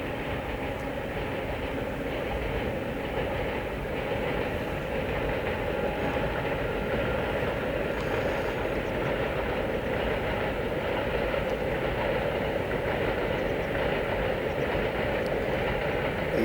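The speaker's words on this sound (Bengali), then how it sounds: "আবার একটা ট্রেন আসছে।" A train runs along railway tracks near a river confluence among hills and forest. Its steady rumble and faint clickety-clack hold evenly throughout with no voices.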